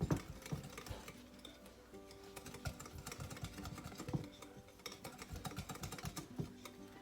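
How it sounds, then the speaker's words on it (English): Rapid, quiet clicking and tapping of a whisk against a bowl while rum cake ingredients are combined, a steady irregular patter running throughout. "just whisk it so everything get combined"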